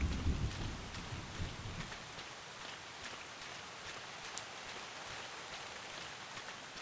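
Steady rain hisses across the scene in the video game Bottle: Pilgrim Redux, with a low rumble of thunder rolling underneath during the first two seconds before the downpour carries on alone at an even, moderate level.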